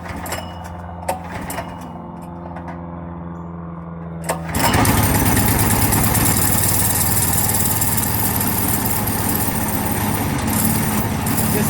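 A small go-kart engine gets a few pull-start tugs, catches and roars up to a loud, steady, buzzing run that fills the rest of the time close by, with no talking.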